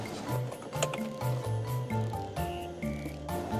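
The seatbelt in a 2014 Mercedes-Benz S-Class tightens on its own with a motorised whir that rises and falls in short stepped pulses, close and steady for a few seconds with no speech.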